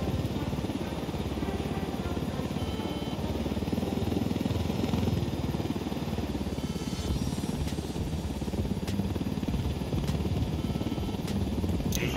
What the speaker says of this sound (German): Hubschrauber fliegen.